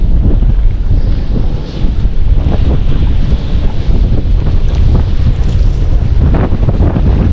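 Strong wind buffets the microphone beside an old fishpond, a constant loud rushing roar that covers the whole stretch without a break.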